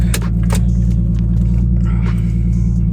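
A 2019 Ford Mustang GT's V8 idles with a loud, steady, deep rumble as the car pulls in close by, with a few faint clicks and knocks over the drone.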